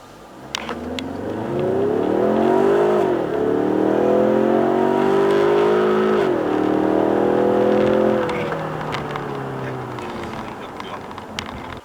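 A Ford Mustang's engine in Sport Plus mode revs up through rising and falling gear sweeps with a loud, gruff roar heard from inside the car, then eases off toward the end.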